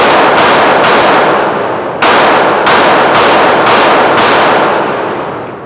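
Handgun shots fired at a target on a range, five sharp loud reports at irregular intervals, each ringing out briefly before the next.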